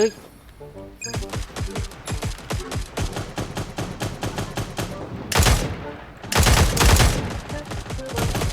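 Rapid gunfire in the shooter video game Cyber Hunter, loud bursts of repeated shots with a few heavier blasts, and a player's voice speaking over the action.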